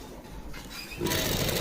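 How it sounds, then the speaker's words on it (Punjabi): A sewing machine stitches lace onto a chunni, starting with a quieter whirring run that then steps up into a louder, faster steady hum of the needle. "ਕਾਰਨਰ ਤੋਂ ਆਪਾਂ ਇਦਾਂ ਇਹਨੂੰ ਥੋੜਾ ਜਿਹਾ ਫੋਲਡ ਕਰਕੇ ਸਲਾਈ ਲਾਵਾਂਗੇ ਲੈਸ ਨੂੰ"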